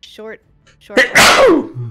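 A single loud, sharp sneeze bursts out after a brief speech-like sound from a person, set during a MechWarrior 5: Mercenaries gaming session.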